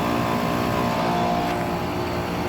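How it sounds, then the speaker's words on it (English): A 5-ton Goodman central air conditioner with a Copeland scroll compressor runs nearby, giving a steady, dense mechanical hum with a whirring fan that stays constant throughout. "I like the sound off the Copeland scroll."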